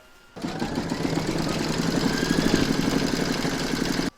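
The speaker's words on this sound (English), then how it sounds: "Pop your hoop back into your machine and stitch round number 7 to secure it." An embroidery sewing machine stitching an in-the-hoop snowman design, a steady fast mechanical whirring hum that starts abruptly, runs for about four seconds, then stops.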